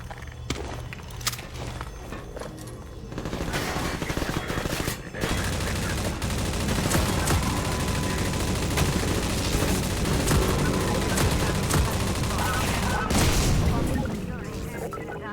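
Turret machine-gun fire in Half-Life 2 (MMod): a long, loud, sustained stream of rapid rattling shots, close and dense, broken by a short pause near the start and another around five seconds before continuing, with booms mixed in.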